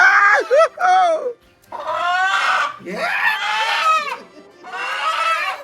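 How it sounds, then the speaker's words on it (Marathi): Village (free-range) chickens clucking and squawking in loud, overlapping bursts close by, with short pauses between calls. "सगळ्या गावठी कोंबड्यांचा स्टॉक इथे भरलेला आहे."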